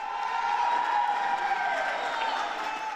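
Public applause and cheering from a crowd gathered outside the Avignon courthouse, a dense, steady wash of clapping and voices lasting throughout, moderately loud.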